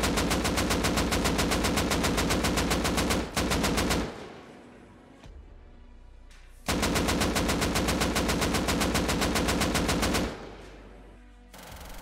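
Rapid automatic gunfire from the video game Rust with its old recoil pattern, delivered as two long, loud, evenly spaced bursts of shots separated by a brief quieter gap.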